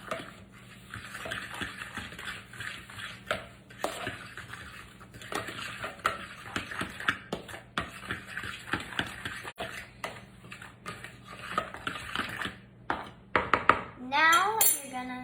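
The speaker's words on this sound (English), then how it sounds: "And then last, you're gonna put in some xanthan gum, sugar. And then you're gonna just mix this out." Xanthan gum and sugar being stirred together in a bowl, busy repeated scraping and clinking of a utensil against the dish, close and continuous, with a voice briefly heard near the end.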